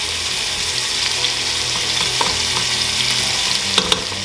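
Bacon sizzling steadily in a hot pan, a continuous close crackle with occasional louder pops and a few light stirring scrapes, no talking.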